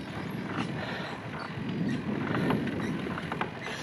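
Fresh, cold wind rushes past on a bike ride along a hilltop ridge in Upper Franconia, a steady blustery roar that swells slightly midway.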